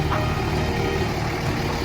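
A Ram 3500 Mega Cab pickup idles steadily nearby, its engine holding a constant low rumble with no change in pace.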